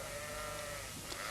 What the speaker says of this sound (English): they'd heard the sheep and had made for them